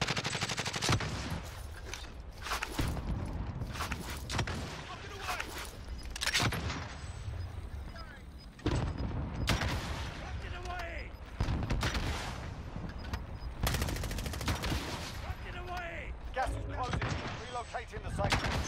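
Repeated bursts of gunfire from a shooter video game, with close rapid shots and fusillades throughout, while players talk over the action.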